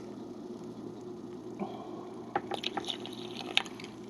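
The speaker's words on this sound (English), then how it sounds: "pour into the must here." A yeast mixture pours and splashes softly into red wine must, with a few small drips and plops, close by and fairly quiet over a low background hum.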